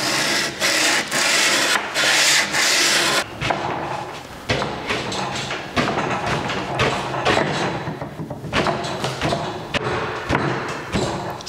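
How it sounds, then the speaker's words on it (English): Wooden cabinet dovetail joints sanded with sandpaper wrapped on a piece of scrap wood, heard as steady close rasping strokes broken by a few sharp wooden thumps, with no talking. "Sanding the dovetails"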